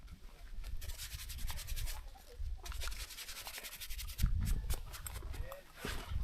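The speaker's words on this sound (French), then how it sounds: "L'astuce c'est de bien les nettoyer avant de les refermer." Ski touring climbing skins are rubbed and scrubbed clean outdoors, a close, rough scraping and brushing in uneven strokes that comes and goes over several seconds.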